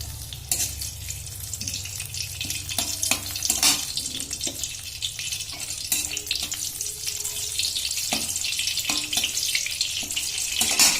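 Bay leaves drop into hot mustard oil left over from frying potatoes, a continuous close sizzle and spitting with occasional clinks and stirring scrapes, no speech.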